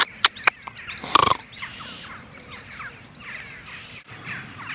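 A group of crows calls noisily along a South Downs path, with harsh caws and several sharp bursts near the start, then scattered cries over background noise.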